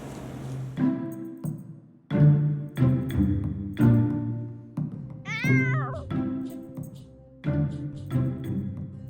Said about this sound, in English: I see you've already met my cat